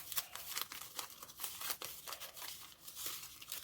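Handmade paper surprise packets crinkle and rustle as they are picked up and handled, with quiet, close, irregular crackles and soft tearing-like bursts and no talking.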